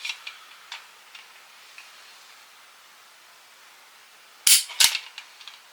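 Trigger of a Taurus 605 revolver in double action, dry-fired: two sharp, loud clicks in quick succession after a quiet stretch, with faint ticking before them.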